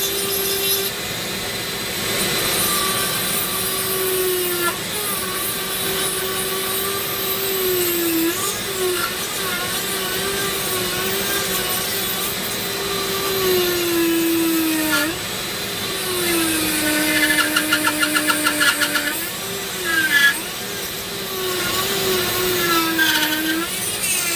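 A Dremel rotary tool carves a Medusa figure, its steady high whine grinding on and shifting pitch as the bit bites and eases, with short breaks and chattering bursts, close and loud with no voices.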